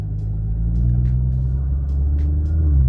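A tuned Stage 3 BMW M340i F30 saloon, put into drive and pulling away, gives a steady low engine rumble with a constant hum throughout. It is heard from inside the cabin, near and even, with no talk.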